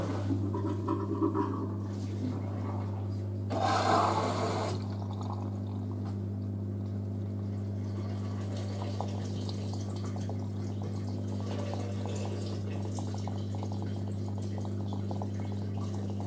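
An LG DirectDrive F1496AD washer dryer drains water on a sportswear cycle at 40°C, a steady low pump hum with trickling liquid throughout and a brief louder gurgling rush early on.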